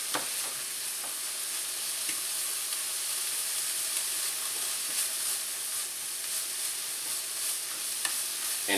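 Vegetables for a meat, egg and cheese omelette frying in a pan, a steady close sizzle with faint hiss and occasional light stirring, no talk.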